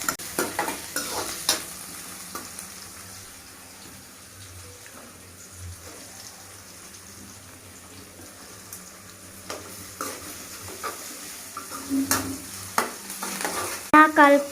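Onions and green chillies fry in a pan while a spoon stirs them, with a low simmering sizzle and intermittent scraping and clinking strokes that grow busier toward the end.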